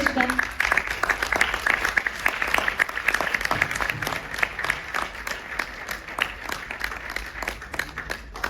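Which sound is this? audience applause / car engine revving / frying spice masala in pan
audience applause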